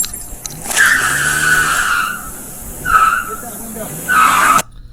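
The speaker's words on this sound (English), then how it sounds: "Williams put the truck in drive, squealing the tires" Loud, high-pitched truck tire squeals come in three bursts over a running engine, close by, with a voice partly underneath.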